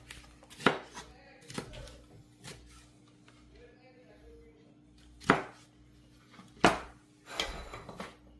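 Knife chopping vegetables on a cutting board, likely bok choy, in irregular sharp thuds: clusters of loud chops separated by quieter pauses, close up, with a faint steady hum underneath.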